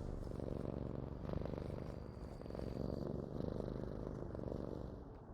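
A cat purrs steadily in Dragon Age 2, a low continuous rumbling close by and fairly loud, with faint game ambience beneath and no talking.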